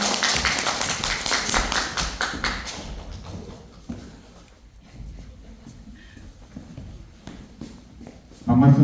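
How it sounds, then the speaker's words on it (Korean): An audience claps to welcome a speaker at a Korean business vision lecture, with steady applause at the start that fades into softer scattered claps and room noise. "큰 박수로 모셔보겠습니다"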